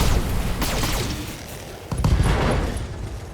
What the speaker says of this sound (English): That was a fair number of explosions.